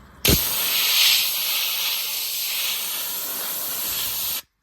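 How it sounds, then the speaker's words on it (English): Aerosol self-etch primer sprayed onto an original engine part, a steady close hiss starting abruptly and holding for about four seconds before cutting off, with no talking. "hit that self-etch primer, put another coat of black on this thing"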